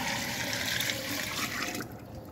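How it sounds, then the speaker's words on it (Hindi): Water pours steadily into an electric butter churner for homemade desi butter and ghee, a continuous close splashing flow that cuts off near the end. "अब हम इसमें पानी डालने लगे हैं।"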